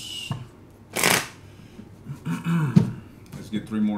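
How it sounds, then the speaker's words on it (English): Tarot cards riffled and shuffled by hand in a couple of quick bursts, close and crisp, while someone talks between and over them. "Let's get three more shuffles."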